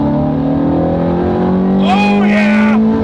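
A modified Ferrari 430 Scuderia engine revs up loudly nearby, its high sustained tone climbing sharply near the end in a brief vroom.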